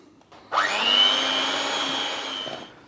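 An electric whisk beats cream cheese, icing sugar and a touch of cornflour into icing, a steady close motor whine that starts abruptly, holds for about two seconds and then cuts off.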